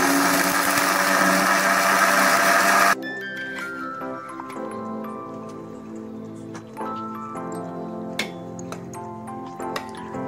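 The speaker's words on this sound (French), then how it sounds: "Alors je vais commencer par mixer d'abord les épices." A blender whirs loudly as it mixes spices for a beef liver dish in tomato sauce, then cuts off abruptly after about three seconds, leaving quiet kitchen clinks and ticks.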